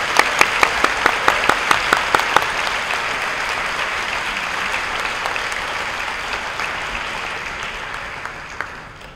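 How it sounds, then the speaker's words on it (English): Audience applause for award-winning students at a school committee meeting: a few sharp individual claps at first, then sustained, moderately loud clapping that slowly fades over about nine seconds. "let's have a round of applause for those students"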